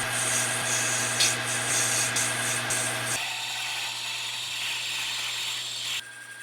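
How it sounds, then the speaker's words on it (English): A Logan metal lathe runs while grooves are cut into a steel workpiece, giving a steady mechanical whine with a faint scraping and ticking texture. The sound drops sharply partway through as the cut eases, then cuts off near the end. "I'm going to throw a couple grooves in here."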